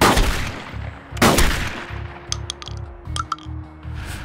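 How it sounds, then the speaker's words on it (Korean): Gunshots in a crime drama, a pair of loud sharp blasts early, then a series of evenly spaced metallic clicks and clacks like reloading and dry firing, with a low hum beneath. "장전 시간을 제외한 같은 간격의 총성"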